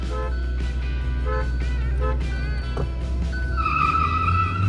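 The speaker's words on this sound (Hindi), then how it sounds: "ओए व्हील स्पिन देख रहे हो गाइस उसका?" At a drag-race start between a 2023 Kia Seltos and a 2017 Hyundai Creta, loud engine roar carries throughout with shrill tire squeal from wheel spin, rising sharply near the end, and no voices.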